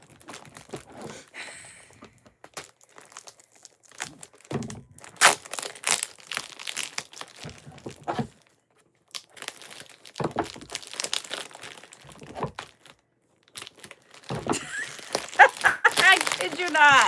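Crinkling plastic bag, taped shut, being handled and pulled open in bursts of close crackling and tearing, with someone talking in between and louder rustling toward the end.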